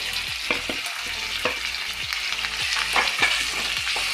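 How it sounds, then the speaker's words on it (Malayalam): Ground spices sizzle steadily in a hot pan for a beef kizhi parotta masala, with a continuous frying hiss broken by repeated sharp scraping clinks of a spoon stirring against the pan, close and fairly loud. "എല്ലാം കൂടി നന്നായിട്ട് ഫ്രൈ ആവണം"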